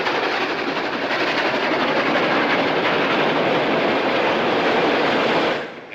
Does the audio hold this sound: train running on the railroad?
yes